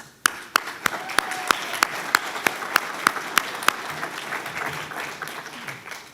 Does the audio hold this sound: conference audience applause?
yes